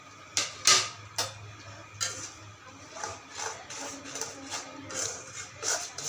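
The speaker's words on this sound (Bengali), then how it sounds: "এখন দিয়ে দিব আমি এই গুঁড়াগুলা, বাদামের গুঁড়া আর চালের গুঁড়াগুলা অল্প অল্প করে দিয়ে মিশিয়ে নিব" A spoon works a mixture of rice flour and nut powder in a pan on the stove for laddu, producing repeated light scraping and clicking against the metal, close and fairly quiet, with no voices.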